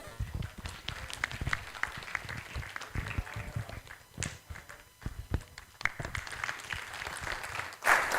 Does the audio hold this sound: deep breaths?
no